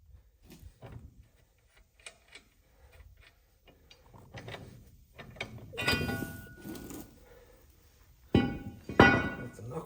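A hammer strikes suspension parts on a 1992 K2500 farm truck, with scattered metallic knocks and clatter building to a few loud, sharp blows near the end.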